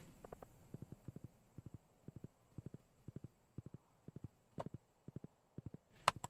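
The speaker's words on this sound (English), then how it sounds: "Go, go, horsey, go" A horse's hooves clip-clop in quick paired beats in Stardew Valley, evenly spaced and crisp, with no voices over them.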